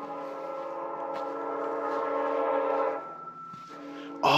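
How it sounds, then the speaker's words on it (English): A steady train horn blast sounds for about three seconds and then cuts off, followed by quieter rail rumble and a sudden clunk at the end. "Oh, it's a train carriage, okay. The sound effects gave it away."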